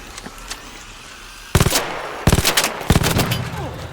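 Single-shot gunfire from a rifle in the shooter game ARC Raiders, loud sharp cracks in two short bursts of separate shots after a quieter stretch.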